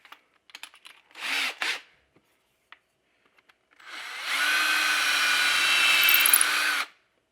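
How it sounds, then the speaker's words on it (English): A power drill boring holes into a resin figure whirs in a short burst, then after scattered small clicks runs again in a longer, steady high-pitched whine, close by. "I'm drilling these holes about 3/4 of an inch deep"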